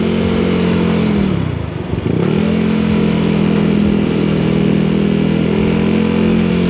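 Honda Mio i 160cc scooter engine idling with a torsion control fitted, a loud close steady hum that dips briefly near two seconds before settling back to an even idle, no voices.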